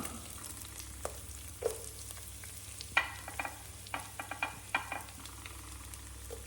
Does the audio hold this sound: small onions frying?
yes